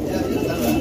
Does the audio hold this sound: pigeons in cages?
yes